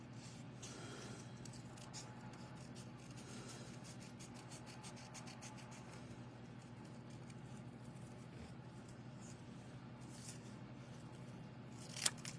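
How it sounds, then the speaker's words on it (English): Scissors snipping around a Merry Christmas sentiment while fussy cutting it out for a deckled circles deer card, a steady stream of soft, close paper cuts and rubbing without talk. "I'm just going to fussy cut it out."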